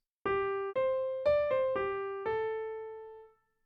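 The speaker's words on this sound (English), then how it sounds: "An accent signifies that the marked note should be emphasized by a stronger attack." Six clear, bright piano notes, each starting with a strong, punchy accented attack, played one after another, the last note held and fading out.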